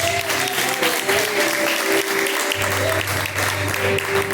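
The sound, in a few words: congregation clapping hands in praise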